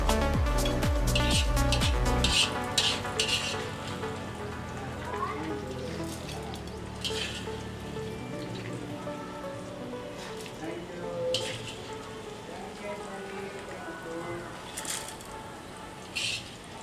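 Cumin and mustard seeds crackle and sizzle in hot oil in a large pot, where pulihora pulusu is being cooked in a big batch. The sizzling runs steadily throughout, and a few clanks of utensils cut in sharply.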